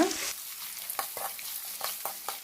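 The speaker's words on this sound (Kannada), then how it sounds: "ಈಗ ಉಪ್ಪು ಹಾಕಿದಾದ್ಮೇಲೆ ಚೆನ್ನಾಗಿ ಮಿಕ್ಸ್ ಮಾಡ್ಕೊಳ್ಳೋಣ." Lemon rice with spices is stirred in a frying pan, a faint sizzle under soft scraping strokes of a spoon, with a louder burst at the start and several quick stirs spaced through the clip.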